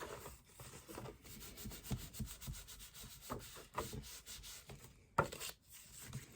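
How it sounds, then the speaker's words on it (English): Paper mini album pages are pressed and rubbed together by hand, giving soft, close, irregular scuffing and rubbing strokes with a few brief louder taps. "I'm just going to press, press, press, rub them together."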